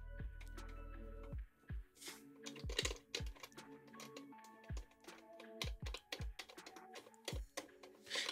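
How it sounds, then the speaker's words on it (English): Knobs being loosened on an On-Stage KPK6500 keyboard stand make a string of close, quiet plastic and metal clicks and rattles in irregular bursts after a brief low hum at the start. "Just loosen these knobs here."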